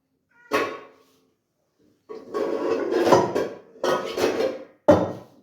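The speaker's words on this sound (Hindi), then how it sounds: "ये जी मैंने निकाल लिया बर्तन" Kitchen pots and utensils being taken out: a few separate bursts of metallic clattering and knocking, close and fairly loud, with short pauses between them.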